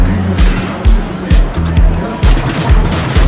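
Sheikra roller coaster at Busch Gardens Tampa rumbling along its track, with repeated low thuds and rattles in a steady rhythm and wind noise, while riders talk and shout throughout.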